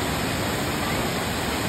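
Waterfall near the living root bridges of Cherrapunji, water falling from above in a dense, loud, unbroken roar that fills the whole clip.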